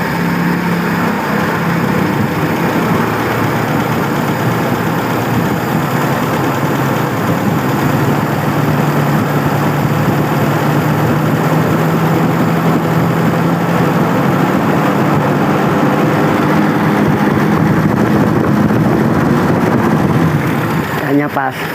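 A carbureted car engine runs continuously and loud, its revs climbing gradually and steadily over about twenty seconds, close and alone, before cutting off abruptly at the end.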